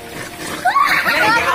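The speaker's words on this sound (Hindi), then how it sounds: "ये देखिए पानी कितनी तेज बह रहा है" Fast-flowing rainwater rushes and splashes close by, a continuous churning wash that grows louder partway through, with a voice talking over it.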